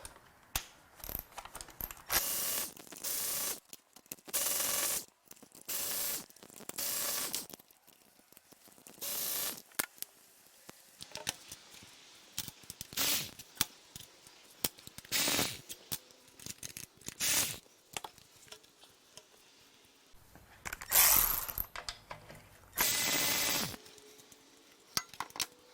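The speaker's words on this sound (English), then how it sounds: "Now we'll remove these bolts." A ratchet works bolts loose on a Porsche 996 Carrera during a teardown, giving repeated bursts of quick metallic clicking separated by short pauses, close up and fairly quiet, with no talk.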